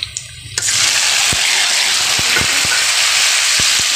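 Tomatoes hit hot oil with frying onions in a pan, bursting into a loud, steady sizzle after a quieter start, with a few knocks and clinks of the pan and spoon cutting through the hiss.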